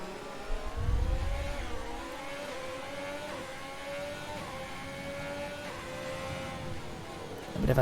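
Formula 1 race car engines, including an AlphaTauri and a Haas, in a Bahrain Grand Prix video game race, droning at sustained high revs with rising and falling pitch as cars pass, steady and continuous throughout.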